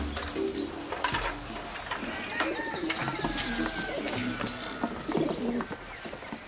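Pigeons coo repeatedly in soft, rolling calls, close by and steady, with a few faint chirps and a human voice briefly mixed in the background.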